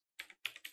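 A few quick clusters of keystrokes on a computer keyboard, close and crisp, tapped in three short bursts with brief pauses between, with no talking.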